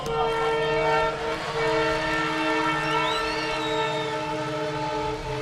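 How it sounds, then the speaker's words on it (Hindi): A train rolls past with a loud, sustained horn blast during an outdoor live Hindi comedy poem recital, the horn tones holding steady for several seconds over rumbling wheels. "वो पंचलाइन के समय रेल आ गई"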